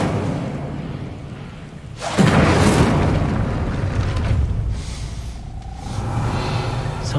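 The Incendio fire spell cast in Hogwarts Legacy bursts in as a loud whooshing roar of flame that swells suddenly and then fades, leaving a lighter crackle near the end.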